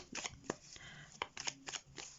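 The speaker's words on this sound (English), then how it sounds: "let's give your cards a shuffle now" Tarot and oracle cards are shuffled by hand in several quick riffling bursts with soft taps between them, close and fairly quiet, with no talking.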